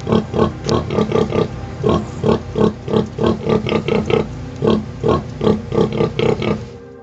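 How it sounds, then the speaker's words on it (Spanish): A mother pig nursing her piglets gives a steady run of close, rhythmic grunts, repeated evenly at a brisk pace with no pauses and no talking. "Las madres cerdo cantan a sus pequeños cuando los amamantan."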